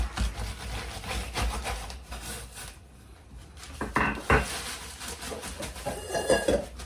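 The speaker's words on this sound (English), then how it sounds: "we're just going to grind them up, crush them up." Graham crackers or cookie crumbs being crushed and ground in a sealed bag for a key lime pie crust, heard as scattered rough crunching and rubbing bursts up close, with a quieter lull midway and no talking.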